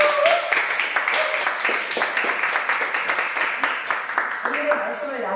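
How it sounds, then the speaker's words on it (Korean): Warm applause from a church congregation at a Hongdae afternoon service rolls on as sharp, close claps, while a voice speaks over the clapping. "우리 열렬하게 박수"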